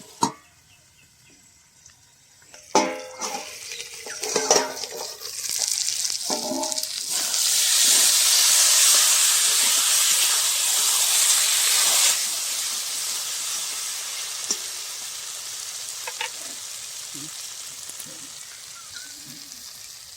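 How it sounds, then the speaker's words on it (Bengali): Taro and fish frying with spices in a village kitchen. A few scattered clatters come first, then a loud hissing sizzle rises and holds for several seconds before fading back to quieter frying and occasional clinks. "মশলা দিয়ে আরেকটু ভেজে দেবো।"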